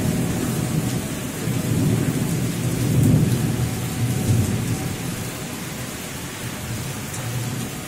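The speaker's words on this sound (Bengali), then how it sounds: "প্রচন্ড জোরে বৃষ্টি হচ্ছে, একদম একদম প্রচন্ড জোরে বৃষ্টি হচ্ছে" Heavy rain pouring down in Kolkata with rolling thunder, a dense steady hiss of rain and deep rumbles swelling midway, no voices.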